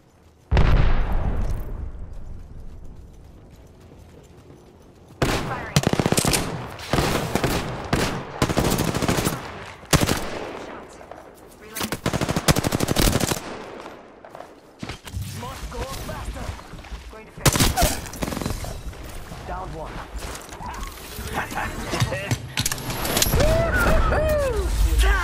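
Rapid automatic gunfire and explosions crackle through a video game firefight in loud bursts separated by brief lulls, with a player's voice talking over parts of the action.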